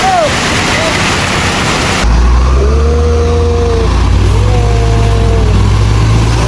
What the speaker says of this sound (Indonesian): Mobilnya jalan nih.